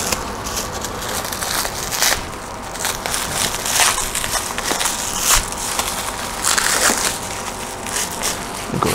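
Plastic saran wrap is peeled and crinkled off a carving knife, giving a steady close crackling and crumpling with brief sharper rustles, no talking.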